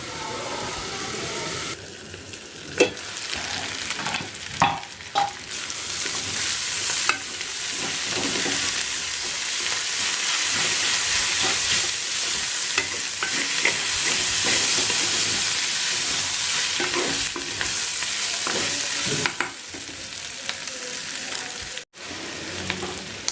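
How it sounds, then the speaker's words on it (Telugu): Shredded cabbage cooks in oil in a pan with a long, steady sizzle and hiss, punctuated by stirring scrapes and spoon knocks against the pan, close and fairly loud throughout. "మనము ఆయిల్లో కొంచెం ఉడకనియాలి క్యాబేజ్ని"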